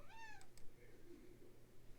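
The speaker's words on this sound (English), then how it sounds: "My cat just came to visit." A domestic cat gives one short, clear meow near the microphone, followed by quiet room noise and faint shuffling.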